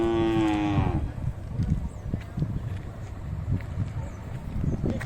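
A cow lets out a long, loud moo at a cattle fair in Kengal, followed by a steady crowded bustle of livestock and people, with scattered thumps and clatter continuing throughout.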